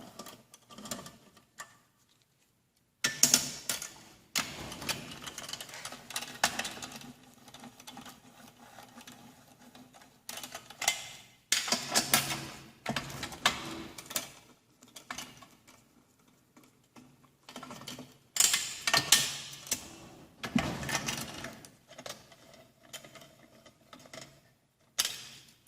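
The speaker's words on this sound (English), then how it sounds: "I'll swap my 8 back to the long end of my T-handle, and I will crack these loose in a counterclockwise fashion" Mechanical clicking and ratcheting from a T-handle wrench with an 8 socket cracking loose and spinning out bolts on a Toro small engine during disassembly, in irregular bursts separated by short quiet gaps, close up with no talking.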